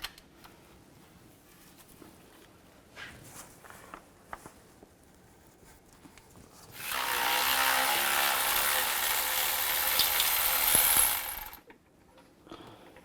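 An 18mm socket on a ratchet works an engine mount bolt on a 2011-2019 Dodge Grand Caravan: scattered faint clicks and knocks, then a loud, steady buzzing rattle for about five seconds before stopping abruptly.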